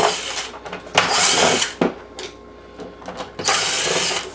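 Power screwdriver removing screws from a Neato robot vacuum during a LIDAR motor replacement, with close whirring bursts separated by brief pauses and no talk.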